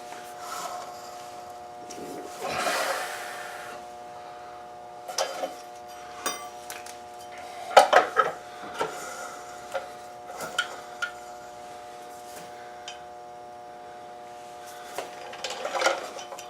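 Metal lug nuts on a Triumph TR7 clink and rattle as they are spun off and set down, a scattered run of light taps and clatters over a faint steady hum.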